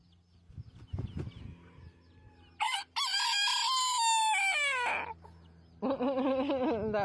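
A pet rooster with fuzzy feathered feet crows twice, loud and close, with a long drawn-out call followed by the start of another, after some soft clucking and rustling.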